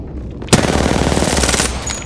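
Video game gunfire erupting suddenly into a fast, continuous burst of automatic shots, loud and close, with no speech over it.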